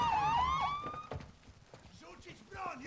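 A police car siren in Call of Duty Modern Warfare II wails with rising and falling sweeps at the start, then cuts off as shouting voices and scuffling take over.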